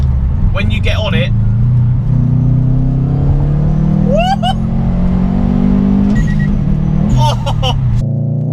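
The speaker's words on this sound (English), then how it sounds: "He's put a Nurapsec Blitz full exhaust system with a sports cap and a HKS dump valve. So when you get on it," A Subaru Impreza RB320 fitted with a Blitz full exhaust and an HKS dump valve accelerates hard, its engine droning low and rising through the revs. Someone talks over it, and a short electronic beep sounds partway through.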